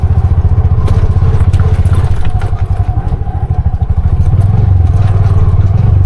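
A Bajaj RE three-wheeler's small engine chugs loudly and close up on a steep, rough road, its rapid putter dipping briefly mid-way before picking up again, with rattling clatter and knocks from the bumpy ride.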